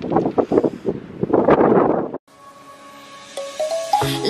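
Gusty seaside wind in Normandy roars and buffets the microphone for about two seconds, then cuts abruptly to quieter tones with music rising.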